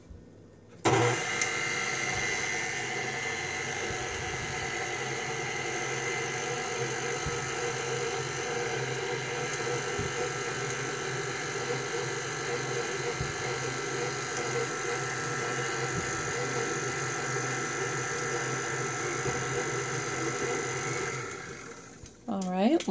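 Stand mixer mixing sourdough ingredients on first speed, a steady mechanical motor hum with a low whirring drone running continuously for about twenty seconds before switching off.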